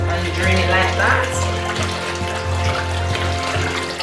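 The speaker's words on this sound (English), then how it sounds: "then I rinse it in the vinegar and the lime water, and I rinse it 2 times" Raw chicken being rinsed in vinegar and lime water for Jamaican jerk chicken, with steady splashing and running water close by over a low hum, continuous for several seconds.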